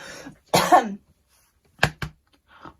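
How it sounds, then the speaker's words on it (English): A few coughs in separated bursts: one long, harsh cough, then two quick shorter ones, and a faint trailing sound, close and otherwise quiet. "I've been coughing here for like a good 5-10 minutes"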